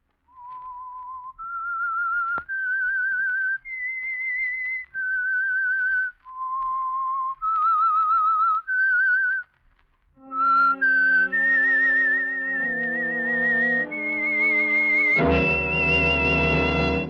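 A clear whistled melody of sustained, slightly wavering notes, the theme of the 1940s radio drama The Whistler, joined partway by orchestral accompaniment that swells into a loud final chord.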